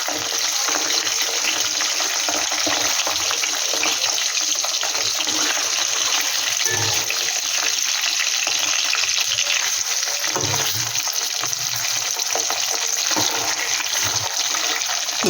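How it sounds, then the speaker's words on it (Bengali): Hilsa fish frying lightly in oil with a steady, broadband hiss and crackle that holds evenly throughout, close and fairly loud, with faint low bumps from the pan underneath and no talking. "একদম হালকা করে ভেজে নেব।"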